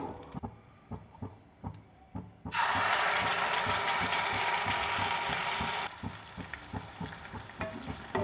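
Ground spice paste for a meal maker (soya chunk) curry sizzling loudly in hot oil, a burst of intense frying in the middle framed by softer stirring and rhythmic scraping of a spoon in the pan.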